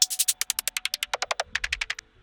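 Hi-hat drum loop from a neurofunk sample pack, a fast even run of bright, crisp hat hits with a short gap partway through before continuing, played alone.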